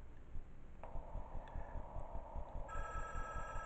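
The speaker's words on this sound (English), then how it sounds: "Alright, so we get another phone call." Phone ringing in the horror video game Five Nights at Cookie Run Kingdom 2, a steady electronic tone that starts partway in and grows brighter with added ringing partials near the end, over low background rumble, no talk.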